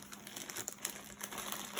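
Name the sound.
plastic packaging of transfer tape roll crinkling while unboxing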